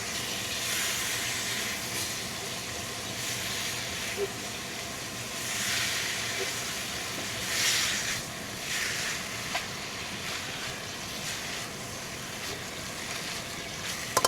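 Tomato paste sautéing in a pan for beef caldereta gives a steady, close sizzling hiss that runs unbroken throughout, with small crackles and pops now and then.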